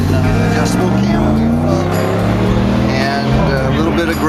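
Modified 1.8-liter Fiat Spider engine with high compression, domed pistons, an aggressive adjustable cam and 40 IDF carburetors, running at a loud, steady idle with a throbbing low rumble close by.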